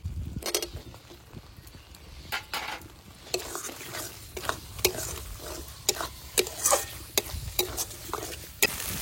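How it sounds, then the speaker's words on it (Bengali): Spices and tomato frying in a pan while being stirred, with repeated sharp spatula scrapes and knocks against the metal over a low sizzle, close and lively throughout. "টমেটো দিয়ে ভালো করে কষিয়ে নেবো"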